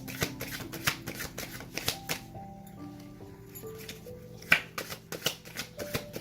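Tarot cards being shuffled by hand close up, with repeated soft riffling flicks and taps in an irregular rhythm and faint background hum.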